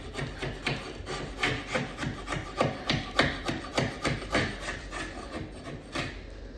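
Repeated rhythmic scraping strokes on a stained wooden cabinet panel, about a dozen firm rasping passes close by, with no voices.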